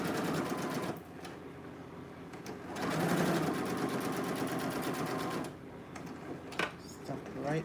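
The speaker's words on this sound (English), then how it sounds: "So I'm stitching it as close as possible." A sewing machine stitching a dress, with close, steady runs of fast mechanical whirring and ticking that pause and restart; a voice talks over parts of it.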